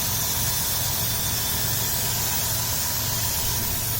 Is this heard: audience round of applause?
no